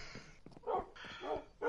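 Dogs bark three times in short, fairly faint bursts, spaced about half a second apart over a quiet background.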